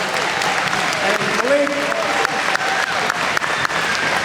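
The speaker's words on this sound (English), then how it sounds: "A round of applause." Crowd applause fills a rally celebration for sprinter Noah Lyles, loud sustained clapping and cheering from a large audience, with a voice briefly speaking over it.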